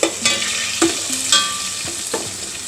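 Butter sizzles and crackles in a hot pan with occasional stirring scrapes while cooking the base for an Ambur-style paneer dum biryani, steady and close with no voices.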